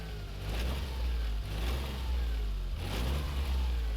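A Smart ForTwo's small engine revs steadily at close range, a droning mid-pitched hum that rises and falls slightly over four seconds, with no voices.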